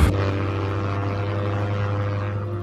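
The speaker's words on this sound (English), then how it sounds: "you just hear the sound of the plane just beginning to rev up" A propeller airplane engine, 1930s Egypt setting, revs up with a steady loud low drone and harmonic whine, starting abruptly and holding constant throughout with no talking.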